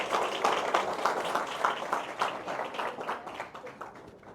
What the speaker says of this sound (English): Can you remember that applause for when I'm done?